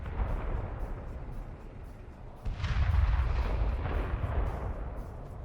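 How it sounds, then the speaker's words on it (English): A Ukrainian tank firing on buildings during combat: a deep distant boom lands midway, followed by a heavy rumbling roll of collapse over a low ambient background. "The Ukrainian tank advances and begins destroying buildings."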